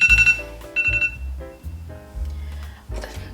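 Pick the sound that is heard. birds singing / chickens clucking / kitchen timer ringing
kitchen timer ringing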